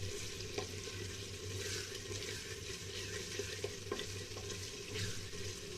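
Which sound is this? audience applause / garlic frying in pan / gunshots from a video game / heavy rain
garlic frying in pan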